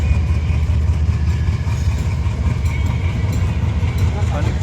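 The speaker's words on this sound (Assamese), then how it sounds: "কি ট্ৰেইন এইখন?" A train rumbles steadily and loudly nearby in Sarupathar town, Assam, with a low heavy drone and constant clatter.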